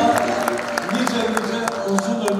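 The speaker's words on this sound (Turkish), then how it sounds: "Bir alkış üstüne." Audience at a concert in Bayrampaşa clapping in a steady, dense patter, with scattered sharper claps and a murmur of voices underneath.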